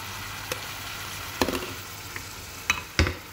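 A spoon stirs tomato paste into onions cooking in a pot, making a soft sizzle with a few sharp clacks and scrapes against the pot and no talking.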